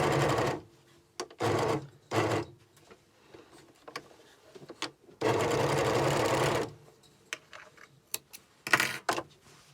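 An overlocker serges the edge of a trouser side pocket in bursts of loud, fast, even stitching, several short runs and one longer run, separated by quiet pauses with small clicks.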